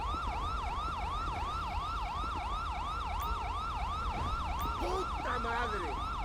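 A police car siren from a video game wails in a steady, repeating up-and-down cycle, loud and continuous throughout over a low rumble, with some brief chirping sounds near the end.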